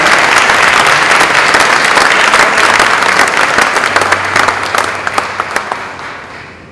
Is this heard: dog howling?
no